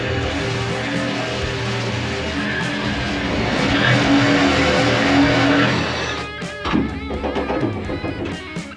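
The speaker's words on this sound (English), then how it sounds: "So I'm going to cut that off right now using my jigsaw." A jigsaw cuts an intake hole in the hull of a Jetstream 12-foot Buccaneer mini jet boat, a loud, steady motor buzz with rasping cutting noise that stops about two-thirds through, followed by scattered knocks and rattles.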